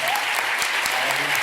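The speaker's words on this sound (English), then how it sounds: "Let's give a round of applause for our" Dense, continuous applause fills the room at a farm to school conference at Smith College, loud and even from start to finish.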